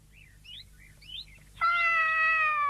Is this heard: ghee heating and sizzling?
no